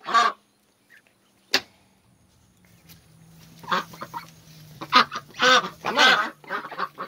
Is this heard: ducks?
yes